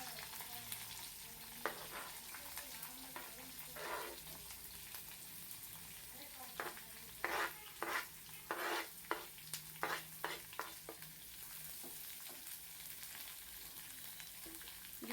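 Finely chopped onions and curry leaves fry in a pan with a low, continuous sizzle, broken by a run of sharp, close scraping strokes from stirring in the middle stretch.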